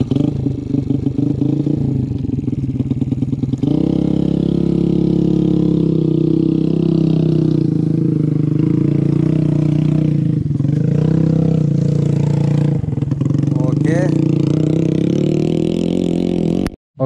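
An old Yamaha Vega motorcycle fitted with an aftermarket Husky Mita exhaust drones steadily under riding, its engine note loud and close and rising and falling as the throttle is worked.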